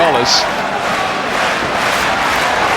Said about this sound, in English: Crowd are loving it too